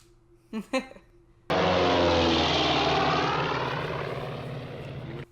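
A propeller airplane engine from the 1943 film Casablanca starts abruptly after a brief bit of speech, then drones loudly and steadily, fading slightly toward the end.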